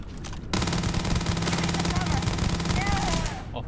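Sustained automatic fire from a video game gun, a loud, rapid, unbroken stream of shots lasting about three seconds before cutting off, with a voice talking over it.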